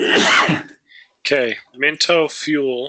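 A single loud, close sneeze, followed after a short pause by a person speaking.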